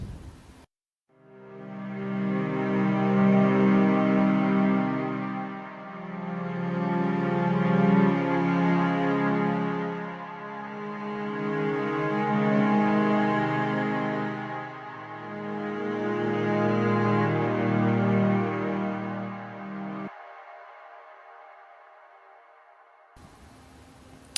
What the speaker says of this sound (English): these strings playing a chord progression in the Phrygian mode